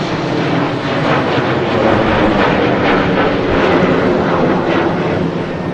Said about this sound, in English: That noise is a Scandinavian blasting out of Manchester Airport.